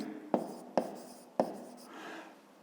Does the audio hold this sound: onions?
no